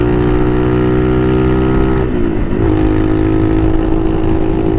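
A Motomax 250 motorcycle is ridden at steady speed, its engine droning loud and close with a brief dip and shift in pitch midway before settling back into a constant hum, wind noise underneath.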